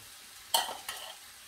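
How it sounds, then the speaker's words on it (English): Smoked paprika being slowly stirred into a curry in a pan, giving two short scraping, sizzling swishes that stand out briefly over a quiet background. "And just slowly stir that in."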